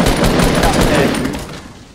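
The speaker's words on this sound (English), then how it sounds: "I'm just gonna shoot him somewhere." Fortnite battle royale gunfire in a 50v50 match: a loud, dense burst of rapid shots that rattles for about a second and a half before trailing off.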